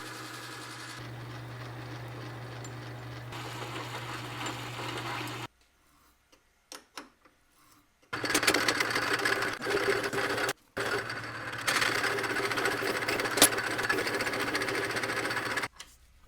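A machine taps threads into steering rod ends, a steady mechanical whir with a low hum that runs, stops for a few seconds of near silence with light clicks, then starts again.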